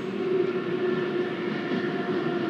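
Steady interior rumble of an E331 series Keiyo Line rapid train under way in the BVE5 train simulator, a continuous low drone with a faint high tone and no talking.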